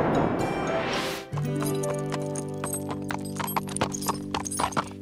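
Cartoon horse hooves clip-clop in a steady walking rhythm at close range, following a brief swell of music and running on with background music beneath them.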